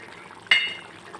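A spoonful of lemon juice poured into a cooking dish, heard as one short, fairly faint liquid splash over quiet kitchen background.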